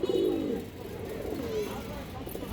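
Caged Kaldam pigeons, Indian high flyers, give a short throaty coo right at the start, then a softer murmur follows close by before fading into quiet cage noise.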